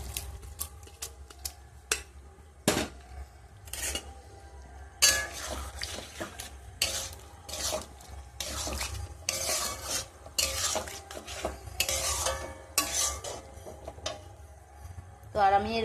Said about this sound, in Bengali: তো আমি এর মধ্যে এবার দিয়ে দেবো আমার সেদ্ধ করা মটর আর আলু